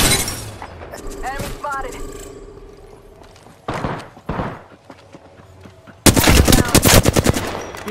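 Gunfire in the video game Apex Legends comes in several separate bursts: short rattling shots early on, a couple of sharp isolated volleys mid-clip, then a loud sustained rapid burst near the end.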